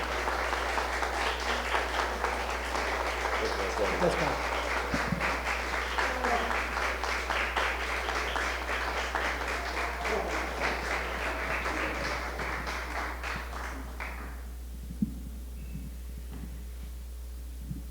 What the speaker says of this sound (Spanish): les pido entonces un aplauso para entregarle a Óscar su reconocimiento